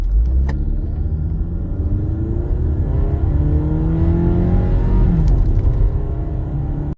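A Hyundai Santa Fe 2.0T with a P0299 underboost fault accelerating sluggishly, its engine droning loud and steady as the pitch climbs slowly through a long gear, then dips at a shift near the end.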